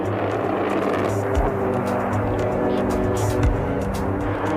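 Loud, steady roaring drone of an AV-8B Harrier, a U.S. Marine Corps attack jet, with a low engine hum throughout and a couple of brief thumps.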